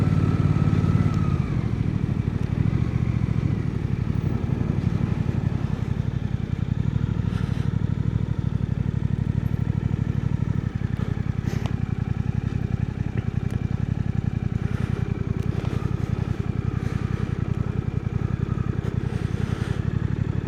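A Suzuki GSX-8R motorcycle rides along on a trip to a grocery store, its engine giving a steady loud drone with wind rush over the rider's microphone and occasional clattery bumps, close and continuous, no one talking.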